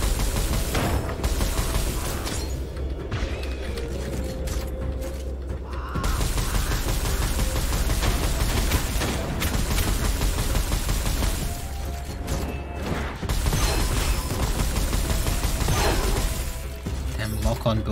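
Lock-on bullets fired by a samurai skeleton sniper in Gunfire Reborn crack as sustained gunfire over dense game noise, with mechanical clanks and deep booms across the whole stretch.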